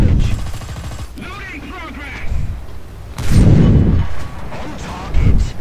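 Tank cannon shots and shell impacts in the War Thunder tank battle game come as heavy, booming blasts. The biggest burst lands mid-clip and another near the end, with a player talking over the battle noise.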